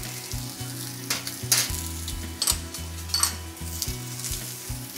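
Edamame sautéing with butter in a pan gives a steady, close sizzle with scattered stirring clatter and utensil scrapes on the pan, no voices.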